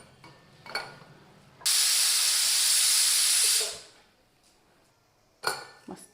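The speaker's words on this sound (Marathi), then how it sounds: "आता एकच शिट्टी काढायची." Pressure cooker on the stove cooking masala rice with avarakkai beans lets out a single loud, steady hiss of steam lasting about two seconds, cutting off sharply, with faint clinks of utensils before and after.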